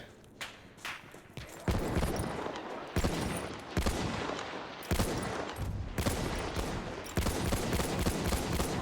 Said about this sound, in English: Why are we getting sniped at?